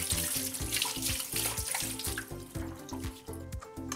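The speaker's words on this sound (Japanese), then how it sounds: "でもう一回よく水で洗って" Running tap water splashes continuously while a vegetable is rinsed by hand for a Japanese tonjiru pork miso soup, with irregular sloshing and clattering over the steady stream.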